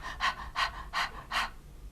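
A voice imitates end-of-life breathing: four quick, breathy puffs in a steady rhythm, followed by a quiet pause imitating apnea, soft and close.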